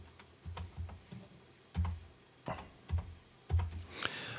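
Fingers type text on a computer keyboard while labeling a button in e-learning authoring software, a quiet run of irregular clacks and key presses, some grouped in quick clusters, with no talking.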